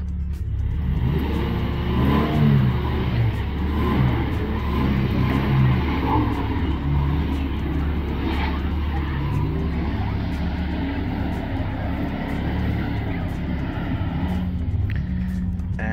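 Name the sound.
four-wheel drive car revving while stuck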